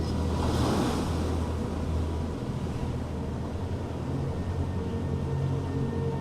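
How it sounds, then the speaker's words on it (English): Roaring ocean surf breaks and washes continuously, with a loud, broad wash of water and some wind rumble throughout, no voices. "Now connecting to the roar of waves."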